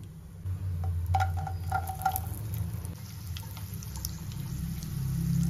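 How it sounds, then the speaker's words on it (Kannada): Cashews and raisins fry in hot melted ghee in a single pot for carrot halwa, giving a steady, close sizzle that runs throughout without speech. "ಸೊ ಇವಾಗ ಇದನ್ನ ಚೆನ್ನಾಗಿ ಫ್ರೈ ಮಾಡ್ಕೊಳ್ಳೋಣ ದ್ರಾಕ್ಷಿ ಗೋಡಂಬಿನ."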